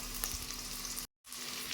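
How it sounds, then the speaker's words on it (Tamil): Mustard seeds and onions frying in hot oil for an oyster mushroom gravy, a dense steady sizzle and crackle close up, broken by a brief silent gap near the end. "கடுகு நல்லா பொரிஞ்சு வரும்போது நம்ம வெங்காயத்தை சேர்த்துக்கலாம்."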